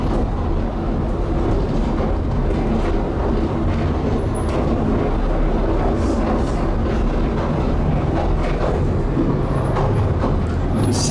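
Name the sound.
Southend Pier train departing, riding in carriage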